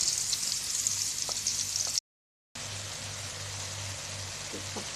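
Onion and chicken frying together in butter and oil, a loud, close, continuous sizzle with bright crackle, briefly cut to silence midway before resuming just as strongly.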